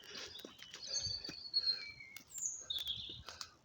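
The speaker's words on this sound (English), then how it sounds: "hear a bird singing up in the tree." Several short bird chirps and whistled notes at moderate distance, scattered irregularly over quiet outdoor background with light rustling.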